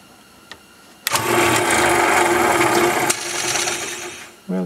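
A Ryobi drill press motor starts abruptly and runs with a loud, steady whine and buzz for about two seconds, then its pitch and level drop as it winds down, with faint clicks before and a bump at the end.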